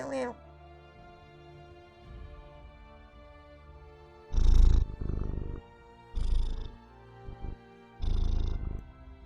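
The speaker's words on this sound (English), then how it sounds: "Purry purr, aren't you?" A cat purring close to the mic in a quiet room, a soft continuous rumble beneath several louder bursts of a person's affectionate voice speaking to it.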